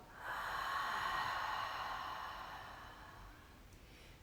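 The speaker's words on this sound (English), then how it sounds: "So close your eyes, okay? And exhale out." A single long, slow exhale of breath during a guided meditation, close and soft, swelling quickly and then fading gently over several seconds, with no talking.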